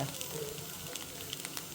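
Coriander seeds and dried red chillies roast in a pan with a faint, steady sizzle and occasional light scraping and stirring sounds.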